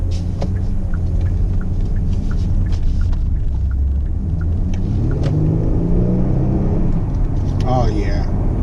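A 2018 Genesis G80 Sport drives and accelerates: a steady low engine rumble and road roar that swells as the car speeds up, with a brief whoosh near the end, heard alone inside the cabin.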